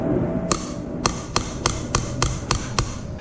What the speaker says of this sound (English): the best way to cut these is actually with a sharp chisel